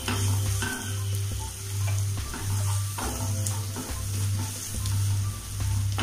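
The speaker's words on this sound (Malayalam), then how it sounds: "നമുക്ക് നന്നായിട്ടൊന്ന് ഇളക്കി കൊടുക്കാം." Coriander powder stirred into frying masala for potato kurma makes a continuous sizzle with a low rhythmic rumble and occasional light taps of a spoon against the pan, fairly loud and close, with no voices.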